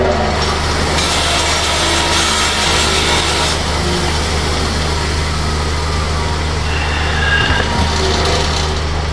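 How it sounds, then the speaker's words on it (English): Motorized wire wheel grinding steadily against a rusty metal object, a loud continuous whir and abrasive rub with shifting intensity throughout. "First step is to run this across my wire wheel."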